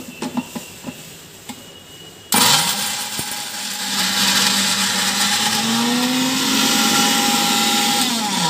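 A new mixer grinder starts abruptly with a loud, steady whir and runs continuously, its pitch rising slightly as it spins up, after a few faint clicks and taps in a quiet kitchen.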